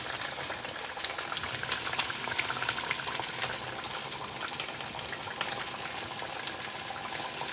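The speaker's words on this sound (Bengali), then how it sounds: "এইভাবেই সব বড়াগুলো ভেজে নেব" Ash gourd fritters (bora) frying in oil give off a dense, continuous bubbling sizzle, close and even, with no voices.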